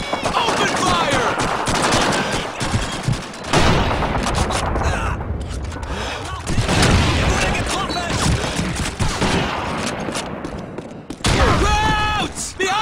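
Heavy battle gunfire in Call of Duty 2, a Rhine crossing mission, with continuous machine-gun bursts, rifle shots and booming blasts, loud and close, with shouted voices over the din.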